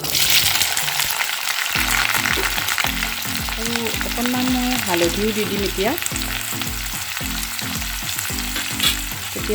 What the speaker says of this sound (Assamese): প্ৰথমতে মই এতিয়া আলুখিনি ভাজি ল'ম অকণমান